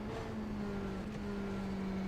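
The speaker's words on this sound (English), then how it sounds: "a bit of a misleading audio artifact of just the high revs of this engine" Playback of a car engine revving high on the Daytona road course, a steady droning whine with a strong tonal buzz that holds for the full two seconds and sounds distant and compressed.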